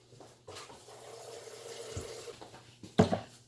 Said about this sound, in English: So I'll get some water.